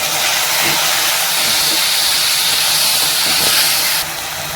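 Spice mix hitting hot oil with fried potatoes in a pan, a loud, dense sizzling hiss that holds steady and drops slightly in level near the end.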